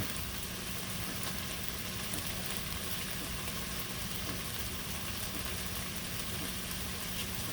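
Sausage and potatoes sizzle in a cast iron Dutch oven with a steady, dense hiss and crackle like light rain, constant and moderately loud with no talking.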